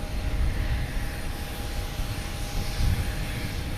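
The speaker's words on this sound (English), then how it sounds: "We have JetBlue coming in from Aruba. A321." Close, loud engine roar from a JetBlue Airbus A321 arriving at Boston Logan from Aruba, a dense rumble that pulses gently for a few seconds with no voices over it.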